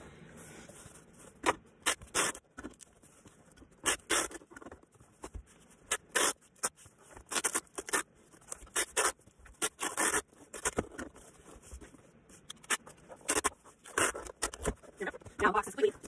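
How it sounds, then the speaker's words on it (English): Packing tape is ripped and pressed onto a cardboard shipping box in repeated quick bursts of tearing, rustling and scraping, close and uneven, with quiet gaps between the strips. "I'm going to tape those to the box."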